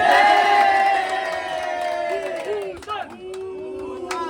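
A crowd cheers and whoops for Team Red at a placing announcement, with loud voices and shouts that swell at the start and then fade into scattered calls, mixed with some clapping.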